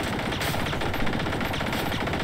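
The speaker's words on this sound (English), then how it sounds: "He does so much damage with that machine gun." Machine gun fire from the Reaper enemy in a video game: a loud, continuous rapid burst of dense shots filling the whole moment, without pauses or speech.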